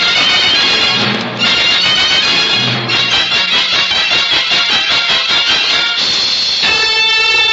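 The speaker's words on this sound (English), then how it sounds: "I do need a horse. Make him go fast, Telecom." A horse neighs loudly twice, then hooves clip-clop at a quick, steady pace close by, followed by another whinny, with no voices present.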